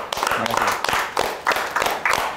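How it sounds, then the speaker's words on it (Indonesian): A small studio audience claps for football coach Gustavo Chena during a podcast, a steady, close run of hand claps lasting a couple of seconds with a voice faintly underneath. "Sekali lagi tepuk tangan dong buat Gustavo"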